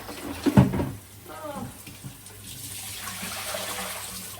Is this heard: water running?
yes